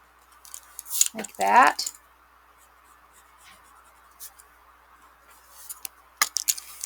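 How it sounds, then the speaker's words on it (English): A pencil line is erased on paper in quick rubbing strokes, close and fairly soft, with a few smaller scratches later, and a brief bit of speech in between. "going to erase this line"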